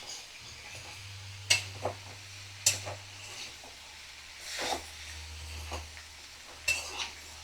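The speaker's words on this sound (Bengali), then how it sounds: "আমি ভালো করে নাড়াচাড়া করে লাউ চিংড়ি মিশিয়ে নেব" A pan of bottle gourd and shrimp is stirred, with scattered scraping and clinking strokes of a spatula against the pan over a quiet sizzle and a low steady hum, no voices.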